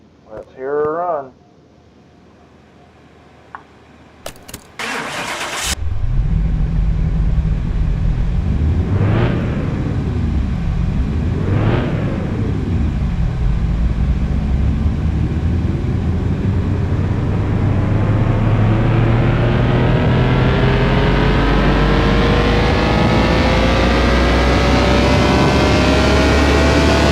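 A 2JZ engine in Car Mechanic Simulator 2021 cranks and catches after a brief voice, blips through two sharp revs, then settles into a loud, steady idle that slowly climbs in pitch.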